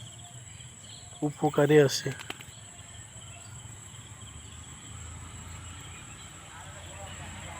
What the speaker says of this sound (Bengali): দিনের বেলায় ঝিঝি পোকার ডাক শোনা যাচ্ছে।